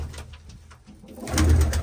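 Pigeons coo in a breeding loft housing paired male birds, low throaty rolling calls that swell louder near the end, close by and without talk.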